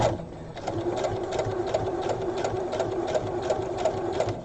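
A domestic sewing machine stitches around the curve of a drawstring bag, its needle thumping in a quick, even rhythm over a steady motor whir, close and clear with no talking.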